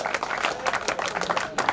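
An audience at a kayaking and canoeing association event at Fatehsagar Lake, Udaipur, breaks into brisk applause to welcome a CRPF athlete, a short burst of clapping mixed with a speaking voice.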